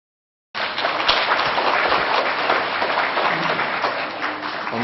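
An audience breaks into sustained applause at a hulusi performance and lecture, a dense steady wash of many hands clapping that starts abruptly and holds at an even level to the end.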